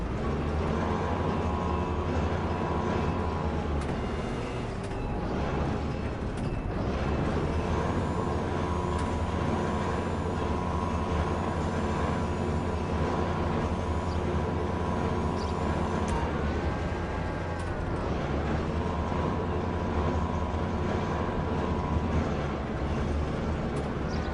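A heavy truck idles and rumbles with a steady low drone during a container-loading job in Grand Theft Auto 5, with a faint air-brake hiss and hum in a continuous game soundscape.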